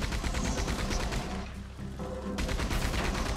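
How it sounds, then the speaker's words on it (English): Machine gun fire in the video game Red Dead Online: dense, continuous automatic bursts, loud and close, with a brief break partway through before the rapid firing resumes. "Good time to use that machine gun."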